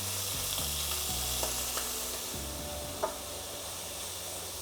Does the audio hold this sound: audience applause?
no